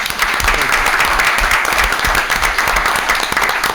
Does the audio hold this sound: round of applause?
yes